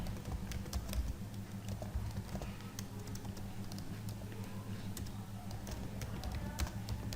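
Keys on a computer keyboard are pressed in Tally accounting software, giving quick, faint, irregular clicks and taps over a low background hum.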